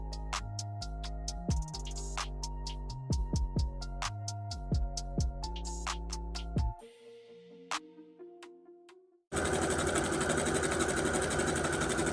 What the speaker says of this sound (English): I'm going to turn and finish sewing up the side of my shorts